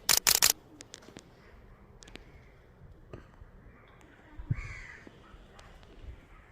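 Crows caw outdoors near salted stingray fish laid out to dry in the sun, giving a few scattered calls amid light clicks and handling noises, with faint background sounds.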